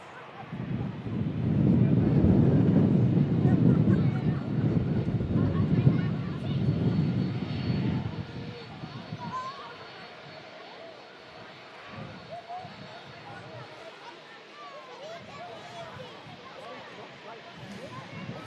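An EasyJet Airbus A320neo jet at Manchester Airport, a loud low engine roar that peaks early and then fades into distant rumble and wind buffeting on the microphone.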